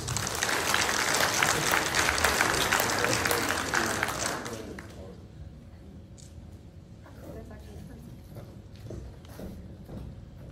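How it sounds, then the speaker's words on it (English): Audience applauding at a graduate student awards ceremony, dense and steady for about five seconds before fading into scattered claps, thuds and low room noise. "Give her a round of applause, please."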